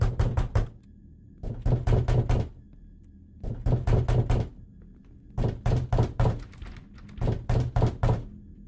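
Knocking on a front door in a Slender Man video game: repeated bursts of four or five heavy, hollow thuds, each group separated by short silences, loud and close.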